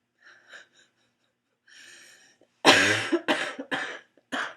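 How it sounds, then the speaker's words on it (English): Soft breathy sounds lead into a loud burst of harsh coughing, several close coughs in quick succession. "Can't laugh because I'll start coughing."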